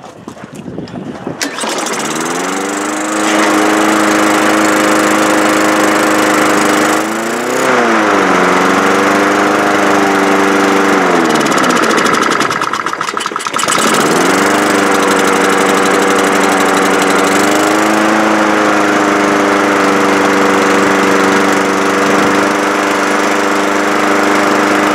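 A Honda GV160 small engine, repaired without new parts, starts and runs loud and close, then holds a steady buzzing drone whose speed dips and recovers twice before settling, with no talking over it.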